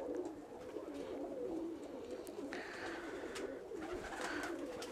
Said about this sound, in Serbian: Ima mog ljubimca, taj je golub 2009. godine koji već godinama je kod mene u priplodu